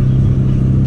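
Loud, steady car engine drone heard from inside a car without carpeting, a strong low hum with a constant pitch, close and alone.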